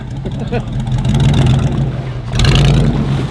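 A four-wheel drive vehicle's engine revs steadily while its wheels spin on ice, a loud continuous drone that surges again near the end, with a person talking over it.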